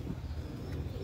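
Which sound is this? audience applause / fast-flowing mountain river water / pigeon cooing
pigeon cooing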